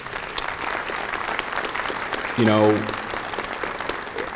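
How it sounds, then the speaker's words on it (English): Applause from the audience at a police department awards ceremony, steady broadband clapping throughout with a brief voice cutting in near the end. "give our command staff, the chief, and every single member of our Department of Police a big round of applause"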